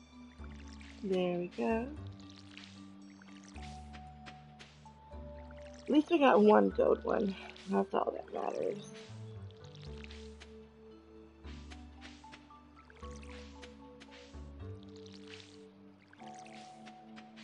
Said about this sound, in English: Let's go ahead and water them.